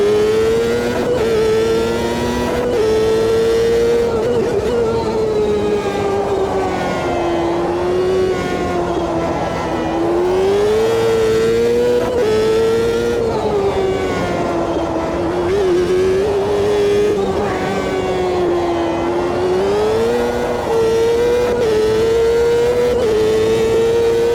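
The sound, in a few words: Champ Car race car driving in Automobilista 2 video game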